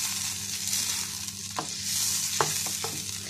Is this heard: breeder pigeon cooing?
no